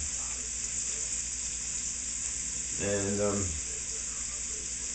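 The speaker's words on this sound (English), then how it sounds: "we're just sauteing this in the pan until it comes, until the onions get clear" Onions and garlic sauté in a pan with chipotle, a continuous bright hiss and sizzle, while someone speaks briefly midway.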